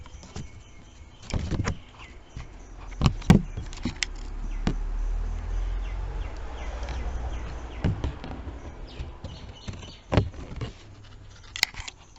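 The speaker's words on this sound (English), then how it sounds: "I'm going to take my scissors and cut around the edges" Scissors cutting around the edges of a paper heart for a craft, with close, scattered snips and crisp clicks separated by soft rustling of paper, and no talking.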